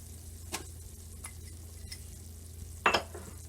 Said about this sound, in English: To my roux, I'm going to add the onion,